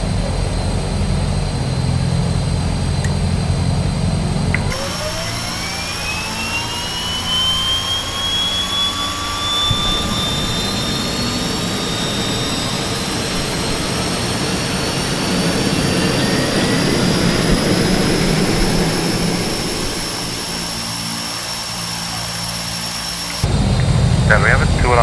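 The second turboprop engine of a DHC-6 Twin Otter in Microsoft Flight Simulator spools up, a rising whine climbing steadily over the first engine's drone before settling into a steady high-pitched hum.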